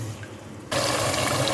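Water poured from a glass into kofta curry gravy in a pan, starting abruptly after a quiet moment and continuing as a loud, steady splashing pour.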